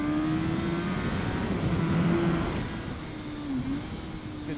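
Race car engine at Winton Raceway holding a steady drone that rises and dips under throttle on track, heard from inside the car, continuous and fairly loud with a gear-related pitch shift near the end.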